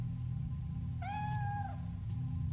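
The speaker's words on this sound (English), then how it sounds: "Oh, there you are, kitty." A cat in the horror video game Fatal Frame 3 gives a single clear, drawn-out meow over a low steady background hum.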